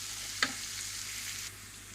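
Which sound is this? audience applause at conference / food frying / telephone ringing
food frying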